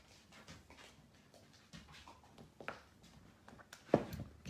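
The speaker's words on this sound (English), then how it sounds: "You can hear my little dogs trotting around all over the place and chomping on their chews." Small dogs trot around a room and chomp on their chews: faint, scattered patter and gnawing clicks, with a sharper, louder crunch or two near the end.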